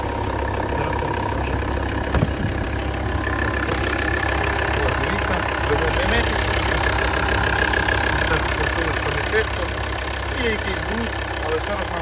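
A 2013 Volvo V60 Plug In Hybrid's 2.4-litre five-cylinder diesel idles steadily with the hood open, an even close-up clattering rumble that holds constant for the whole stretch with no talking.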